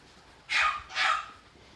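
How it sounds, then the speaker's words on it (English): A dog gives two quick barks from a short distance, standing alone against a quiet background. "You hear Milo barking in the background."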